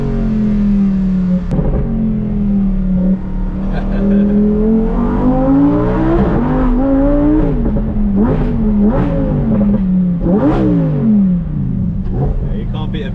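A Lamborghini Huracan STO with a naturally aspirated V10 accelerates hard from inside the cabin, its loud engine note climbing and dropping through several gear changes while people talk over it.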